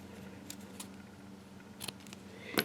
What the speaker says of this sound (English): And I use my little precision scissors here.